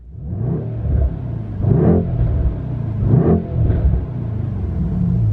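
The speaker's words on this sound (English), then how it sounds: "In-car revving." A straight-piped Mercedes E63S AMG V8 revs from inside the car, deep rumbling idle rising in three or four loud surges and dropping back, close and steady with no talking.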